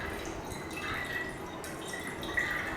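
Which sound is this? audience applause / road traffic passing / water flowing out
water flowing out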